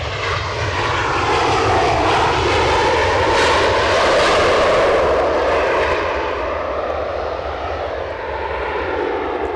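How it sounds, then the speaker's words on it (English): A United airliner landing at Edinburgh Airport gives a loud, steady engine roar that holds throughout and eases slightly near the end, heard alone without talk. "I can't not do this landing."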